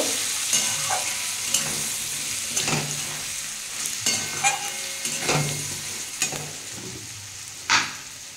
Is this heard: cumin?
yes